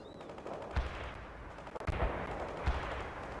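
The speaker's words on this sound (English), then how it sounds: "Fire the artillery there!" Artillery fire in the strategy game World in Conflict, Soviet assault mission: a steady rumbling battle bed with three heavy, low booming blasts spaced about a second apart, loud and close.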